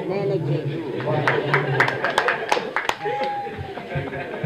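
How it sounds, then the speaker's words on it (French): Scattered hand claps from an audience at a conference for the international sape festival in Conakry pop out in a short burst while a voice keeps talking over them. "Est-ce qu'on peut applaudir"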